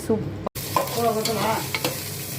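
Onions sautéing in a pan as a veg pulao with coconut milk gets underway, a steady close sizzle with scraping stirs and a brief dropout partway through, no voices.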